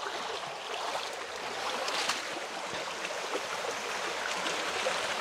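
A hill stream in Attappadi runs full after rain, a steady, close rush of flowing water with no other sounds over it.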